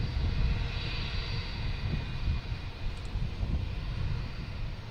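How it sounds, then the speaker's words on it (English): A United Airlines jet rolls for takeoff from runway 29 at Boston Logan Airport, a steady low engine roar and rumble heard from a distance, continuous and unbroken, with no talking. "we have United Airlines heading out 29 for takeoff"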